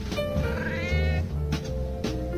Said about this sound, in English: How the tiger egg makes little meowing sounds and rolls around.